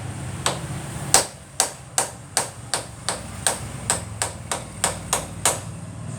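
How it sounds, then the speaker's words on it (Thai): A hammer strikes the steel butt of a screwdriver to loosen a seized front disc-brake bolt: about a dozen sharp, ringing metallic taps in an even, steady rhythm, close and fairly loud, with no talking. "เราจะต้องใช้ไขควง ตูดที่เป็นเหล็กนะครับ ในการ ตอกเพื่อคลาย เดี่ยวน็อต"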